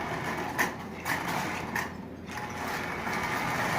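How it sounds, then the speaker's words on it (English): Marx 898 toy train locomotive with a replaced rear wheel running on track, a faint, continuous mechanical whir and rattle with a few soft rhythmic clicks, close by. "this locomotive is running just absolutely splendidly"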